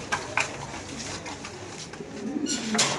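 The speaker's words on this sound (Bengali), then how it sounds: "দুই পেয়ার লোটন কবুতর ইন্ডিয়ান না ভাই?" Indian Lotan pigeons cooing softly in a low, rolling murmur, with a few brief brighter sounds and some faint background voices.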